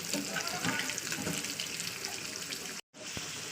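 Boiled potatoes deep-frying in a pan of hot oil, a steady dense hiss and crackle running continuously, then a sudden brief dropout before the frying resumes.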